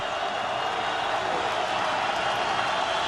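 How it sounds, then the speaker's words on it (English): A large college football stadium crowd at a TCU game against Northwestern roars steadily to spur on the Horned Frog defense, a broad, distant wash of cheering that holds at an even level throughout. "Crowd trying to spur on this Horned Frog defense for a stop."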